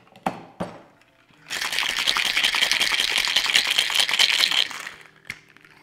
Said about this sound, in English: I'm gonna go ahead and dump that right in and give this a nice shake.